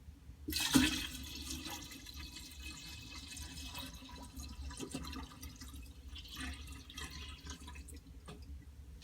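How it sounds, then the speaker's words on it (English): Kombucha liquid poured into a jar in a short splashing burst, then a quieter steady trickle and drips continuing for several seconds, close and fairly soft. "I'm going to pour towards the edge so it'll go underneath it"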